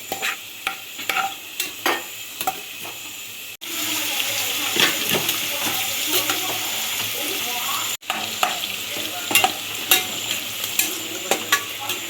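Onions deep-frying in a mix of ghee and Dalda for chicken biryani, a steady close sizzle broken by stirring clatter and scrapes, with no talking.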